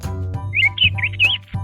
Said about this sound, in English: They chirp tweet, tweet. Canaries are known for their bright yellow color and sweet singing.